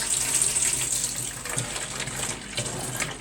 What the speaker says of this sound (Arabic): بتفتحي الميه بالشكل دوت وتملي الازازه